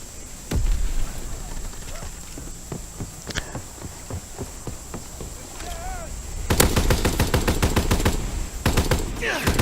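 Heavy weapon fire in Call of Duty: World War II multiplayer: scattered single shots and footsteps, then a loud, rapid machine-gun burst that rattles on for several seconds near the end.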